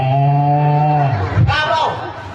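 A human voice imitates a cow mooing, a drawn-out low bovine call that rises and falls in pitch, heard close, followed by a brief bit of talk.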